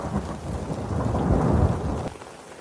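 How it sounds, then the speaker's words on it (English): Heavy rain pours down around an off-grid RV, hard enough to send water running through the yard, as a deep rolling thunder swells and then fades under the steady hiss of the downpour. "Raining hard enough that there's a river"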